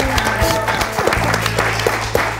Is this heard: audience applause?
yes